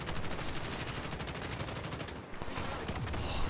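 Dense, continuous automatic gunfire from a Modern Warfare match, rapid rounds overlapping into a loud, sustained fusillade with a brief dip midway before the shooting picks up again.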